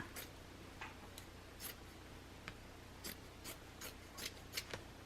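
Small scissors snip through excess fabric in a quiet series of a dozen or so short crisp cuts, irregularly spaced and close up, without any voices.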